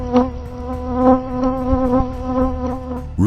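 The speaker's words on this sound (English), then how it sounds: "The bee attacks the camera rapidly without showing any signs of stopping." A bee buzzes loudly and steadily against a doorbell camera, its droning hum wavering in pitch as it repeatedly bumps the lens at close range.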